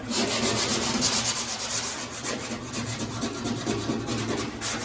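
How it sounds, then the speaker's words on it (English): A Holden FB car panel is scuffed by hand with cheap 60-grit sandpaper, giving a continuous rough rubbing with a steady rhythm of close, even strokes and no pauses. "you get the 60 sandpaper here, is just a cheap shit from Bunno's as well"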